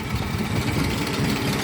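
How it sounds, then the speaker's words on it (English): A 1957 Farmall 350 tractor with a four-cylinder International gasoline engine idles close by, giving a steady low rumble with an even, rapid firing pulse and no talking. "this is a 57 Farmall 350. It's got the 4-cylinder international engine"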